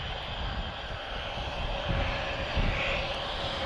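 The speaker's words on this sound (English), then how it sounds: "we have a very lovely Embraer E190 long range" TAP Express Embraer E190 long-range jet at Lisbon Airport in a persistent crosswind, a continuous engine roar with low rumbling gusts, fairly near and steady for a few seconds, with no voices.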